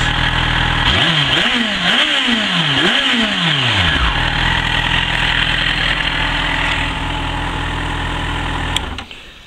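A nearby Yamaha FZ6 Fazer motorcycle with standard exhaust revs in three sharp bursts, then idles loudly and steadily before cutting off at the end.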